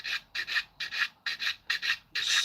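A coarse sanding stick rubs on a plastic A-4M model kit part in quick back-and-forth strokes, about nine close, crisp rasping passes in a steady rhythm with brief pauses between.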